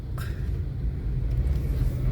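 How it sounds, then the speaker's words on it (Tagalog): Large trucks passing at a stop on C5 Avenue, a steady low engine rumble and road roar from heavy traffic, close by and continuous with a brief higher hiss near the start. "Ayan, mga truck."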